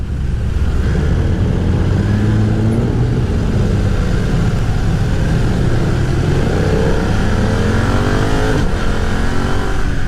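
A 2020 BMW F900R Sport Style roadster motorcycle ridden in rain mode at low revs, its engine droning loud and steady throughout with gently rising and falling pitch and no talking.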